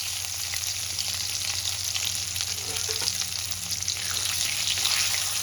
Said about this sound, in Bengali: মাছগুলো আমার দু পিঠই ভাজা হয়ে গেছে